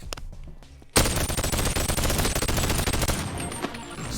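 Gunfire in the VR shooter Boneworks: after a quiet moment, a sudden sustained burst of rapid automatic shots rattles on for about three seconds, loud and close, trailing off into a few final reports.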